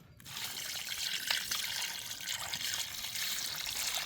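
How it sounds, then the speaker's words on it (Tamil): Mutton pieces rinsed with turmeric in water, making a fairly quiet, continuous slosh and trickle of water with small splashes and handling noises throughout, no voices. "பதமாக அலசிங்கண்ணா மட்டன்."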